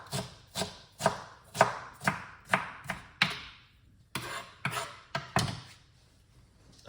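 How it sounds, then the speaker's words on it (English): Knife chopping ginger on a cutting board, a run of about a dozen sharp, close thunks in a quick uneven rhythm, pausing briefly midway, with no talking. "Cut up your ginger nicely."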